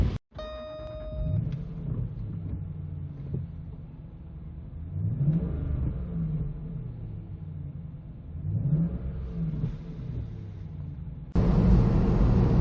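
A 2008 Jaguar XK8 4.2 coupé engine revs up and eases off several times in a low, steady drone, heard from inside the car, ending in a louder rush of road noise.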